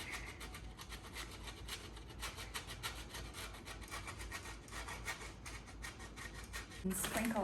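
Cheese is rubbed against a hand-held cheese grater with a broken top handle in a fast, steady run of close, scratchy rasping strokes, ending with a louder clatter.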